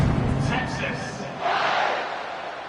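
Home crowd at an Alabama college football game, a distant roaring cheer that swells midway, with a commentator's voice over the start.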